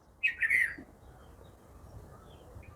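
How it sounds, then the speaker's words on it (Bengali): A bulbul gives a brief squawking call from a drumstick tree, one short burst early on, fairly clear but slightly distant, followed by quiet outdoor background. "ওই যে সজনিয়া গাছের উপরে বুলবুলি পাখি ডাকতেছে"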